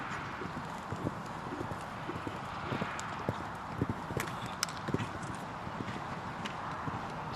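Horse hooves clip-clop across a show jumping arena at an international CSI2* event, a steady rhythmic beat with some sharper louder strikes, heard at moderate distance over faint background ambience.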